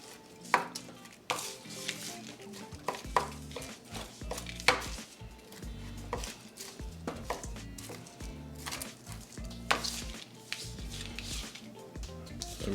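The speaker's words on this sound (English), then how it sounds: "we're just gonna start cutting. Chopping, dicing, whatever you wanna call it" Smoked pork belly from a Louisiana Grills pellet grill is rough-chopped with a Delta Wolf Dawgstrong knife: close, irregular knife thuds on a board, some sharp and loud, in bursts over about thirteen seconds.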